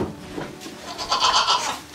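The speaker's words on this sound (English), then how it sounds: "Good morning, Daisy Goat." A goat on a farm in the morning gives a couple of short, close bleats, the second louder and more nasal, with no talk over them.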